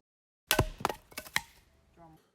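Firewood being split with a blade at a campsite: four sharp, close wooden thwacks in quick uneven succession, then a softer rattle as the pieces settle.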